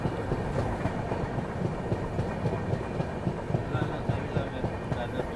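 A moving passenger train on the Ahmedabad Gorakhpur Express route near Varanasi, with a steady, loud roar of wheels and carriage rumble plus faint clickety-clack, heard from on board while another train overtakes.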